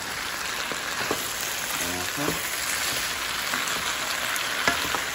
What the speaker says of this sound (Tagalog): Parang ipiprito na lang po natin saglit.